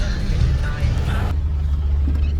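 A car being driven, with a steady low engine and road rumble running throughout. It quietens and dulls partway through, and faint voices sit underneath.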